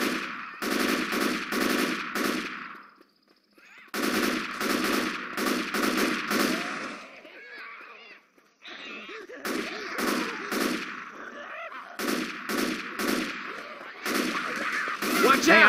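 Automatic gunfire from the shooter game Left 4 Dead rattles in long, loud bursts broken by short pauses, with fainter gameplay sounds in the gaps.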